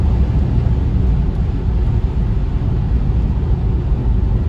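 1990 BMW E32 750iL V12 engine accelerating from inside the car, a loud, steady low rumble with road and wind noise, close and unbroken throughout.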